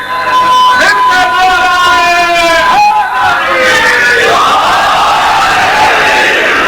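Large crowd at a religious majlis gathering raising a slogan in unison, loud and sustained voices chanting close and filling the space, with a brief dip midway before the swell of voices returns.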